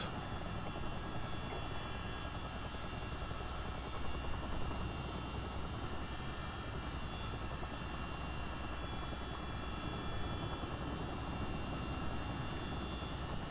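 Aircraft engines run in a steady, even drone before taxi and takeoff. The low hum holds unchanged at a moderate, distant level throughout, with no talk.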